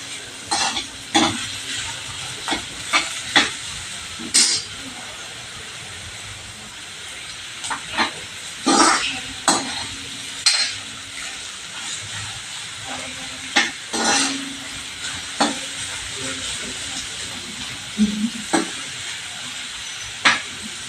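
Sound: sauteing chopped onion in a pan

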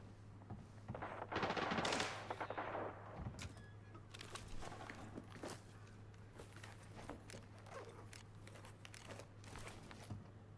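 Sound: AR57 gunfire in a video game

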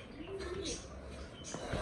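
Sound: pigeons cooing

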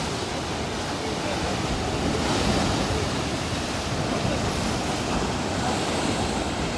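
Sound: waves on Mogren beach, Budva, after rain

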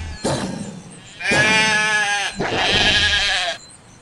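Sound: sheep bleating in a wolf video game

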